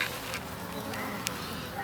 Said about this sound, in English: these are Tony's bees. They are Italians